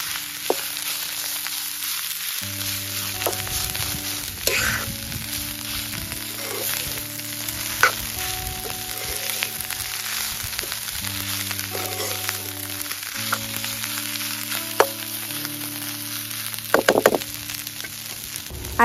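Boiled kudya flower vegetable sautés in spices in a pan with a steady frying sizzle and occasional stirring thunks, while background music plays over it.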